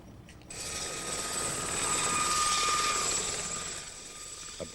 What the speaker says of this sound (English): Above, from Craigan Camp, the helicopter starts the daily surveillance